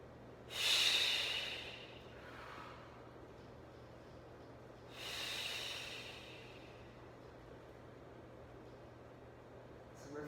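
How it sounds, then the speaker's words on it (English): Two deep, breathy breaths during a Pilates exercise, each a loud rushing inhale or exhale, separated by a few seconds of quiet room noise. "Inhale, inhale, inhale, exhale."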